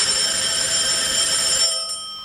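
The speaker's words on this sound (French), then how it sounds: "Interrompu par la sonnerie du téléphone." A telephone rings with a steady, bright electronic tone that holds for about two seconds and then cuts off, heard alone and close.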